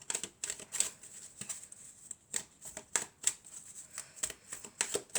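Tarot cards are shuffled and drawn by hand, a quick run of crisp riffling snaps and soft card flicks in an uneven rhythm, close and fairly quiet, with no voices.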